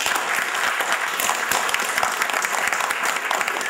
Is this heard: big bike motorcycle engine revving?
no